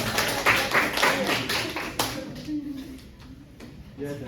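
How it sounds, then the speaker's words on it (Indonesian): A class at a peer-teaching session on biodiversity claps for a student. The clapping is dense at first, then thins to a few scattered claps, with people talking over it. "Tepuk tangan dulu untuk Mbak Anissa."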